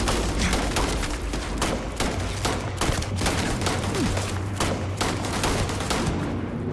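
Gunfire in the video game Starfield, a dense continuous stretch of rapid shots and fusillade rattling throughout, loud and busy with no talk.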